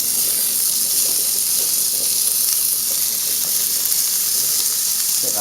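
Lamb chops sizzle loudly in a very hot frying pan, a dense, steady crackling hiss with scattered spits and pops that holds throughout, close and without any talking.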